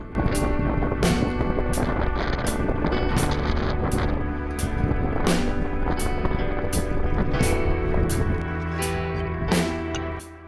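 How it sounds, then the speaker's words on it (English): Strong, cold winter wind roars steadily and loudly across the microphone in open wilderness, with gusty buffeting and occasional sharp knocks throughout. "It's cold and windy here."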